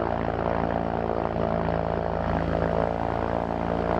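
The six-cylinder Jabiru engine on a STOL CH 750 light sport kit aircraft runs up to a steady, smooth propeller drone, loud and close, with no talking over it.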